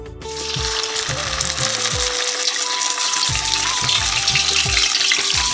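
Hot oil sizzles and crackles steadily as ash gourd leaves fry, with a constant bright hiss and occasional low knocks from the pan.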